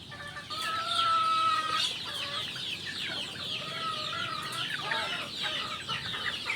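Chickens at a game farm clucking steadily at close range during afternoon feeding, several birds overlapping in repeated short calls with no talk.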